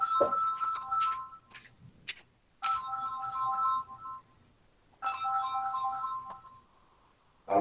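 A telephone ringtone repeats three times as a bright, melodic chiming pattern with short silent gaps between rings, clear and close in a quiet room.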